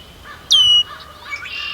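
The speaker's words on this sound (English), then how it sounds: "Red-winged blackbirds, small body, big voice." A red-winged blackbird sings nearby in a marsh, one loud, sharp, trilling call rising then falling, followed by softer chirps and other birdsong in the background.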